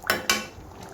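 Fried turkey berries tipped into a pot of brinjal tamarind gravy, two quick clattering hits of metal on metal close by, then fading into quiet sizzle.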